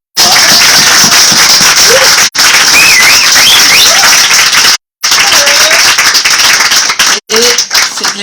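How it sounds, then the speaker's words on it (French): A loud, dense burst of audience applause at a Hanukkah study event, with continuous clapping and what sound like faint whistles or cheers, broken by a couple of brief pauses. "Je crois qu'on peut l'applaudir encore une fois."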